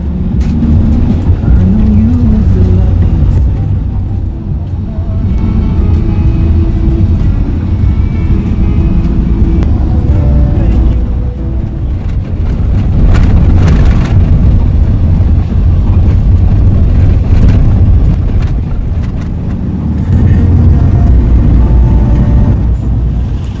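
A tricycle's engine droning steadily while riding near El Nido, Palawan, loud and close with rising and falling throttle and wind rumble throughout.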